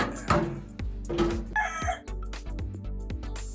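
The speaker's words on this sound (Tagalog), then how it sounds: "Pasensya na kayo sa ingay ng manok." Chickens cluck and squawk nearby in irregular bursts, with a short crowing call mixed in among scattered background noises.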